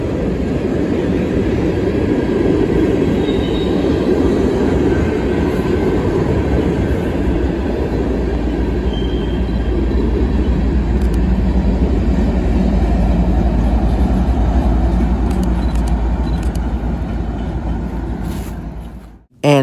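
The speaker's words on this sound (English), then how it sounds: "And that was it for the northbound ore train." A northbound ore train rumbles past up close, loud and continuous with rail clatter for nearly twenty seconds before it cuts off abruptly.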